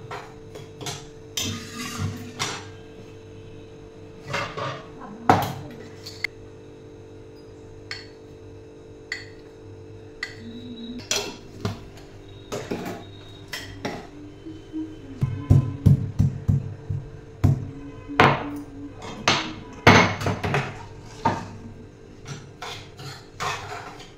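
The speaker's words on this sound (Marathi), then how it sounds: "आणि रवा भाजताना कधी सारखं असं परतत राहायचं" Semolina (rava) being roasted and stirred in a pan on a gas stove for upma, with a spoon scraping and clinking against the pan in irregular taps that grow busier and louder toward the end.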